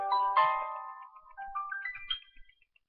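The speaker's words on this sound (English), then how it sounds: "that was my phone, sorry." A mobile phone ringtone plays a short melodic tune of clear electronic tones that rise and fall for about two seconds, then stops, moderately loud and with no voices over it.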